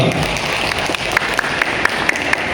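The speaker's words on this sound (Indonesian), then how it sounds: "tepuk tangan buat kita semua" Audience applause rises at an anniversary celebration of a culinary training school, a steady wash of many hands clapping for a few seconds, with a few sharper claps standing out near the end.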